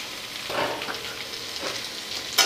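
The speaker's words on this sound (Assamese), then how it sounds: "এনেকৈ প্ৰায় 2 মিনিটমান সময় ভাজি ল'ম এনেকৈ।" Rohu fish masala with cumin and chili powder frying in a pan, a steady close sizzle with a few soft stirring scrapes and a brief sharper clatter at the end.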